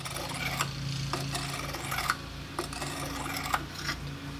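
Knife blade scraped on a coarse whetstone in repeated short rasping strokes, steady and close, with a few brief clicks between passes and no talk.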